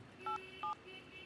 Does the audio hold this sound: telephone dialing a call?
yes